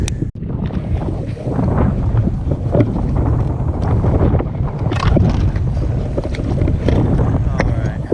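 Wind buffets the microphone steadily while fishing from a boat near lily pads, a loud continuous rush with occasional gusts and no clear speech.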